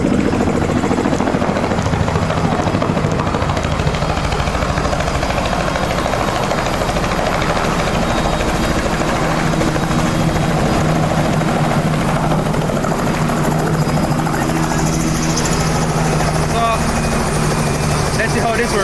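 A helicopter's steady rotor and engine roar fills the whole stretch, loud and close, during a flight over Disney, with voices faintly underneath.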